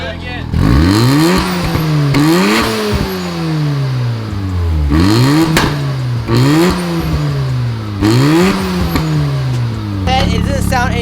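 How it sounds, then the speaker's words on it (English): Revving car engine with a modified exhaust that backfires, rising in repeated sharp sweeps of pitch, each followed by a drop back to idle, with loud cracks and pops at the peaks of several revs. "It backfires now. It shoots flames now."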